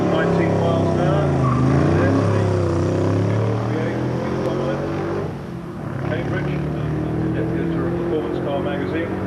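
A V8 race car with a 3.9-litre engine on Dellorto carburettors, about 275 horsepower, accelerates at the Brighton Speed Trials. Its loud engine rises and falls in pitch, dips briefly midway, then drones steadily on.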